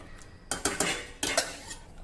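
A spoon scrapes and clinks against a pressure cooker while masala khichdi with salt and hot water is stirred, in two quick close bursts of metallic knocks with no talk.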